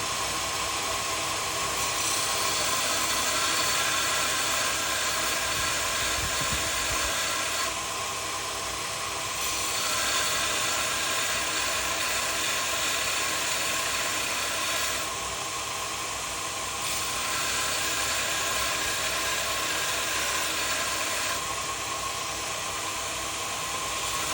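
A drill bit is sharpened on a bench grinder: a steady, loud whirring hiss runs throughout, shifting slightly in tone every few seconds as the bit is pressed and eased off, with no voices.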